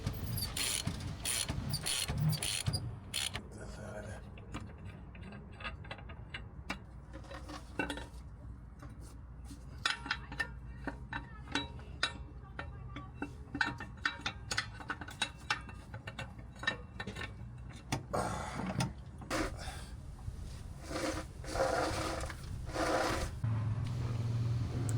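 A spare tire is lowered from under a Promaster van, with faint clinking, ratcheting metal clicks and rubbing, and a few louder knocks repeating at irregular intervals over a quiet background.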